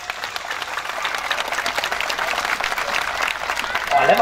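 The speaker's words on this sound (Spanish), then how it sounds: "Fuerte los aplausos para Coquito." Crowd at a bullfight in Aguaí applauds loudly and continuously, a dense wash of clapping that swells toward the end as a voice begins speaking over it.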